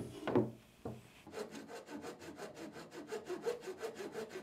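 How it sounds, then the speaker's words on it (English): A hand saw trims excess timber from a reinforced mitered picture frame, with a couple of initial knocks followed by a fast, regular back-and-forth rasping of sawing close by, no speech. "with our saw, we're just going to cut off the excess"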